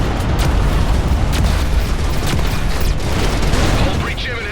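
Torpedo blasts striking a starship in the space combat game Everspace 2, a dense, loud rumbling roar of explosions and bursts that stays heavy throughout, with a voice speaking over it.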